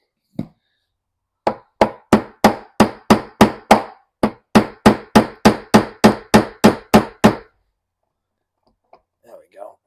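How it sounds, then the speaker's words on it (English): Hinge pins being hammered out of mobile home door hinges: a quick run of about eighteen sharp, evenly spaced metal hammer strikes, close and loud, with a short pause midway and a brief voice at the end. "I'm going to go ahead and just take these hinge pins out"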